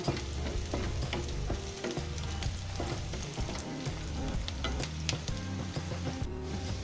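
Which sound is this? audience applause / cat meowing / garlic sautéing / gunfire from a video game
garlic sautéing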